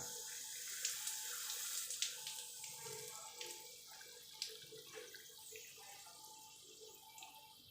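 Water released from a valve on an RO water filter system to drop its pressure runs as a faint, steady hiss and trickle with small splashing spatters, fading slightly over several seconds.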